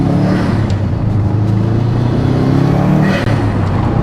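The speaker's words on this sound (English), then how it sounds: "that burble from the exhaust" A JDM Subaru Impreza STI Limited Bugeye with an HKS intake burbles steadily from its exhaust, a deep continuous rumble at close range with no voices.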